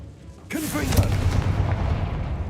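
A Confringo blasting spell in a video game sets off a sudden booming explosion about half a second in, followed by a rumbling, crackling tail that lingers for the rest of the clip.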